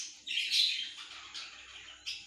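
Bird calls voiced for a crow in a children's puppet show: a few bright, chirping squawks close by, a long cry followed by two shorter ones, no talk over them.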